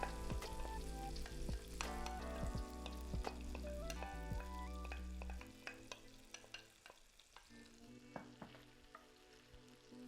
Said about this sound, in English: What we're doing is we're caramelizing the onion on a low heat setting